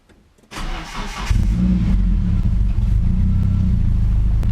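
A Nissan 240SX S14, with its battery relocated, cranks briefly and then fires up. It settles into a loud, steady, rumbling idle close by, with no talking.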